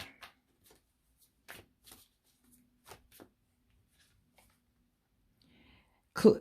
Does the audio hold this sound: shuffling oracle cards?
yes